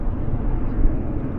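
An airliner climbing out after takeoff from Vancouver Airport, bound for Seattle, makes a steady distant jet roar, brief and unbroken, with no voices.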